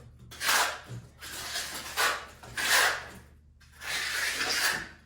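A trowel scrapes base coat plaster across a wall to feather a ridge left at the end of old cement work, heard as several long, close rasping strokes with short pauses between them.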